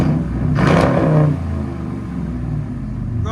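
A 2018 RAM with a 5.7L HEMI V8, true dual exhaust, X-pipe and Carven R-Series mufflers, revs once loudly and deeply, then settles back into a steady low rumble, close by.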